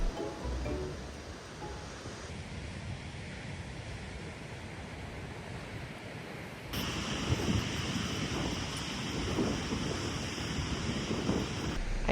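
Ocean surf rolls onto a Northern California beach as a broad, steady wash of breaking waves, mixed with wind buffeting the microphone and growing a little louder toward the end.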